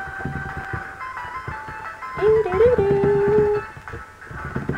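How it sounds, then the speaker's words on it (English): Background music from a Batman video game, with sustained synth tones and a steady beat, plus a brighter melodic line sliding in midway, playing continuously without talk. "I love the music in this game."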